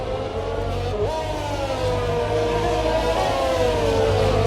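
Race car engines scream continuously in a sim racing video game at the Hungarian Grand Prix, one engine note rising sharply as it accelerates and then holding at a high, buzzing pitch, with a commentator talking over the top.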